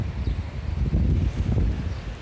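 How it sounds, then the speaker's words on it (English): Wind buffets the microphone outdoors by a beach in Spain, a steady low rumbling roar with gusty swells throughout, no voices. "a little bit windy, so I apologise for a little bit of sound noise"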